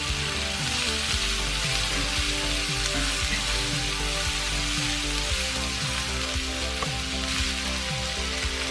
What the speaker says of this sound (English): In the same cast iron pan, saute the onions